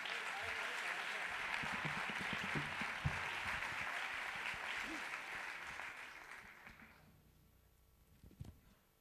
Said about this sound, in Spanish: quiero que le deis también ese aplauso merecido para él